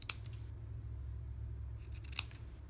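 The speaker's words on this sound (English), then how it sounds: "And I'll snip the ends." Scissors snip the ends of a burlap bow in two quick, faint cuts, one at the start and one near the end, with near silence between them.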